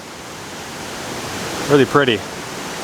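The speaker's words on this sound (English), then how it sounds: "Take a look at this gorgeous little creek here. This is the creek that goes over the waterfall called National Creek." Small creek running toward a waterfall in big-tree forest gives a steady, soft broadband rush throughout, with a brief spoken remark over it near the end.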